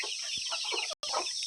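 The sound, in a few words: chickens clucking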